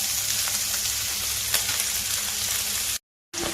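Onion and green chili sauté in a pan of oil for carrot rice, giving a steady, close, even sizzle that cuts out briefly near the end before resuming.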